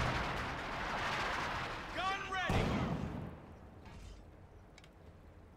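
Pack howitzer artillery firing in a real-time strategy video game, a low burst-like boom standing out from a busy battle mix with a sharp transient near the middle, heard under a talking commentator.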